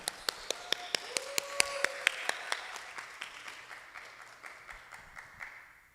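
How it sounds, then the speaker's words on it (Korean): A church congregation claps in welcome for a guest testimony speaker, sounding as a sparse, fairly slow series of distinct claps that gradually fade, with a faint tonal hum beneath. "미리 나오셨는데 박수로 환영하겠습니다"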